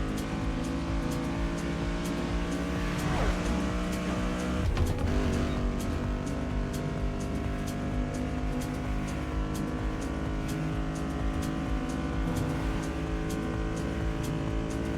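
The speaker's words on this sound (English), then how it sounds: "the car sound, I'm a little bit underwhelmed with the car sounds" Muscle car with a V8 and rear-wheel drive in the racing game The Crew Motorfest, its engine and exhaust droning steadily with a sustained harmonic hum and a brief surge partway through, with no talk over it.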